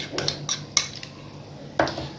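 A cooking pot is scraped and cleaned with a metal utensil while a chicken steam roast is being prepared, giving a few sharp clinks and scrapes spaced irregularly, near and fairly quiet.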